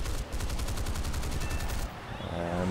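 Four nose-mounted cannons on a de Havilland Venom FB.4 jet fire in War Thunder as a loud, rapid, evenly pulsing burst that lasts nearly two seconds, cuts off abruptly, and then gives way to engine roar.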